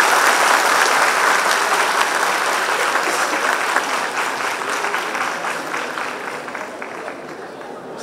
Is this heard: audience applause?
yes